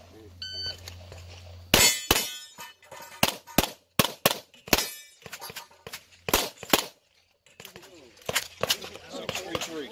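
Rapid gunshots ring out at a 2018 Endless Summer Blast shooting competition in Limited Division, each crack followed by a sharp metallic clang off steel targets in quick irregular bursts, with brief talking near the start.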